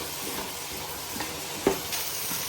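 Onions and tomato fry in a pan under a steady close hiss of sizzling, with a few light stirring scrapes and one sharper clink of the spoon against the pan.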